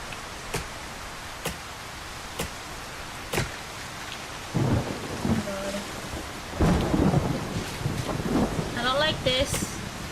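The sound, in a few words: thunderstorm with rain in video game Solarpunk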